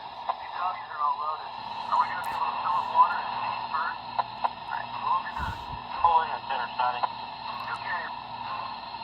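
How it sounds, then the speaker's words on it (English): Farm sounds from an HO-scale Big Boy model train's small, tinny sound decoder speaker, with animal calls and bleating sweeps over a constant background hiss. "12 I have as farm sounds"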